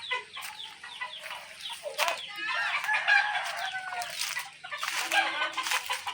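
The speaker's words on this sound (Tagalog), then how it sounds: "Dami nilang alaga manok." Many raised chickens and gamecocks on a rural property: roosters crow repeatedly over a backdrop of steady hen clucking, fairly faint and a little distant.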